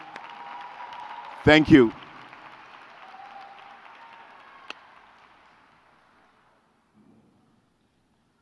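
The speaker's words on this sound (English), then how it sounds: "Could you give them a round of applause again?" Broad applause from a crowd at a high school graduation ceremony, a steady wash of clapping that slowly fades out over several seconds, with a short spoken thanks near the start.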